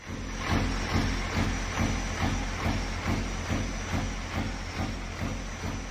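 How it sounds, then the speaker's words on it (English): A steady high turbo whistle rides over a rhythmic, pulsing idle from a custom Cat 3412 V12 truck engine in American Truck Simulator, continuous and moderately quiet, with a hissing texture throughout. "You can hear that turbo whistling away there at idle."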